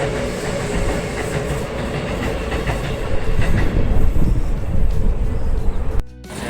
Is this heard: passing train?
yes